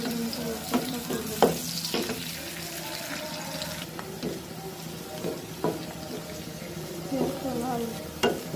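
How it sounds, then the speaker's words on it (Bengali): Chopped onions fry in a pan for pulao, a soft continuous sizzle broken by scattered stirring clinks and scrapes, fairly quiet and close, with no talking. "পেঁয়াজটা ভালোভাবে লাল হওয়া পর্যন্ত অপেক্ষা করব।"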